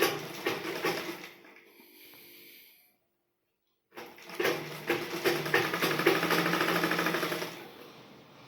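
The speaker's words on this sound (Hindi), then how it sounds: "पलट के ऐसे सिलाई कर लेंगे।" A sewing machine stitches a blouse sleeve in steady rhythmic bursts, running for about two seconds, stopping briefly into near silence, then starting again and running continuously, fairly loud and close.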